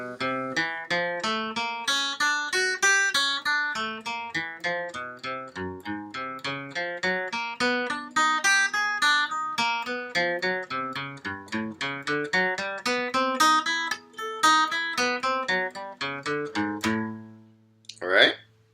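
A guitar plays a riff in quick repeated picked notes with a steady rhythm, moderately quiet, ending on a brief sustained chord.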